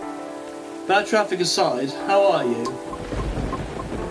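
Rain hisses steadily in the game Coffee Talk 2, with low rumbles under it, while a voice speaks over it. The rain swells at the end.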